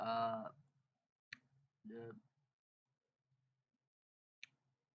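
Two sharp, quiet computer mouse clicks sound a few seconds apart, separated by short bits of speech in an otherwise silent room.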